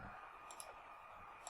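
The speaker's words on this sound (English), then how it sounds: "Oops, I didn't actually mean to click on that." A computer mouse clicks faintly a couple of times at a quiet desk, small sharp ticks over a low steady background hum.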